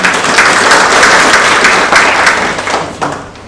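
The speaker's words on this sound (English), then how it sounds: "please give another round of applause." An audience applauds loudly, a dense wash of clapping that holds steady, then gradually thins and fades toward the end.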